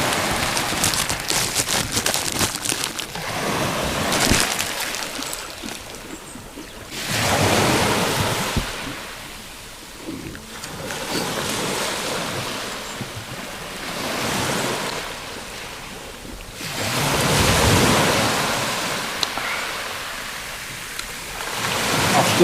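Ocean waves break and wash up a beach in slow surges a few seconds apart, a steady loud roar of surf with wind noise over the microphone and no talking.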